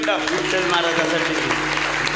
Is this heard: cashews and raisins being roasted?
no